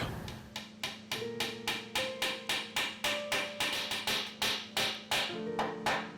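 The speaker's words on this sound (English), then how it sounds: "Once the dowel is driven all the way in" A wooden dowel is hammered into a glued antique furniture joint with about twenty sharp, evenly spaced blows, loud and close, each strike ringing briefly, with no voices.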